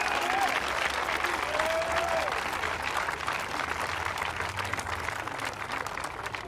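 An audience at a religious gathering applauds in a steady, dense wash of clapping that carries on throughout, with a voice briefly audible at the start.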